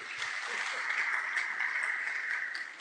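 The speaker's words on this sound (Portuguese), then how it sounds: "Vamos dar uma salva de palmas aos nossos atores." An audience gives a soft, steady round of applause for actors after a short performance during a talk on forgiveness. The clapping is even, sustained and fairly faint.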